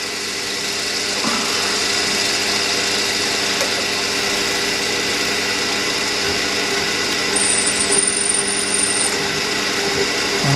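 A drill boring a hole into a diesel engine crankshaft on a machine in a workshop, giving a loud, steady mechanical drone with a faint high whine that holds throughout without pause.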